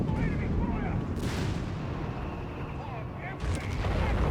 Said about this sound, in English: And we got more artillery on the bunkers here.